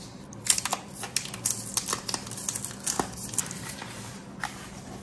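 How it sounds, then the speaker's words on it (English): A Xiaomi Pad 5 keyboard case being unboxed, with quiet crinkling, tearing and scattered sharp taps and clicks of packaging being handled, close up with no talking. "And let's unbox the keyboard now."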